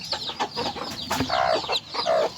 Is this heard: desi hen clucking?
yes